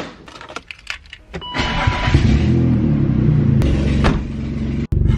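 A BMW E36 M3 race car engine runs loud and steady at close range, a deep rumble with jangling keys and small clicks early on before the engine noise swells and holds.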